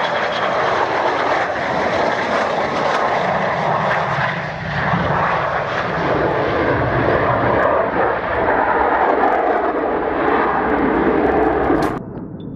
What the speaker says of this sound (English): This amazing fighter jet landed too early on the runway and hit the rough part of the runway.